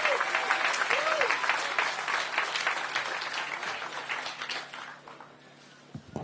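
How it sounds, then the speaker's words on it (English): Audience at a ribbon-cutting for a Ward 8 entertainment and sports arena breaks into steady, dense applause that gradually fades out over several seconds, with a voice briefly heard in the background. "please give a big round of applause for Brian Kenner"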